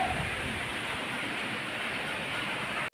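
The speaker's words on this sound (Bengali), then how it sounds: "এখন ঝড় বৃষ্টিও হচ্ছে" A storm with wind and rain, heard as a dense, steady roar of rushing wind and falling rain that holds evenly throughout before cutting off abruptly at the end.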